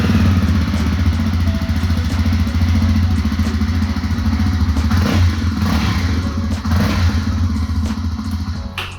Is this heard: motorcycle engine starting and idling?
yes